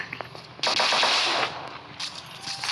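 Rapid machine-gun fire rattles in a video game, a loud close burst of about a second followed by another shorter burst, with faint clicks before it.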